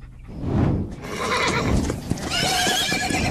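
A horse neighs loudly and close, a long shrill whinny rising and wavering, with hoof clatter and movement noise around it and no talk.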